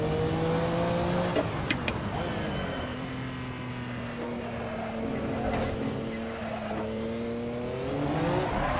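Race car engine in Assetto Corsa on PS5, played with a Thrustmaster TH8S shifter, revving and shifting through gears with rising and falling tones and a quick downshift blip, moderately loud and heard alone.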